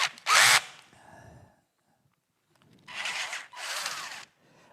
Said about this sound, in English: I'll then drill deep enough